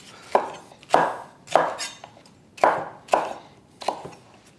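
A white or yellow onion roughly chopped on a board: seven sharp, close knife strikes at an uneven, brisk pace, each thud ringing briefly, with no talk.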